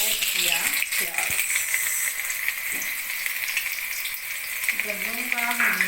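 Onions frying in a little oil for a savoury daliya, a loud steady sizzle close by with occasional clinks and stirring rattles, and a voice speaking briefly at the start and again near the end.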